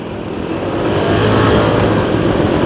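A scooter overtakes a Honda Vario on the road, with a steady close engine drone and wind rush building slightly in loudness over a few seconds.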